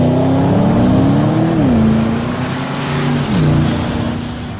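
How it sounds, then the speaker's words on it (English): A Porsche Panamera Turbo S laps a race track, its engine droning loudly and steadily from inside the car, pitch climbing then dipping at gear shifts, with road and wind noise beneath and no voices. "It was great fun to drive the new Panamera Turbo S"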